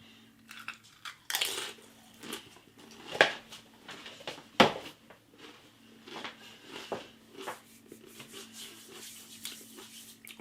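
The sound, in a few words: crunching Doritos Stax chips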